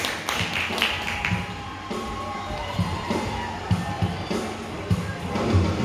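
A church congregation at a Sunday Baptist service applauding, soft rhythmic clapping with murmuring voices, fairly faint and somewhat distant.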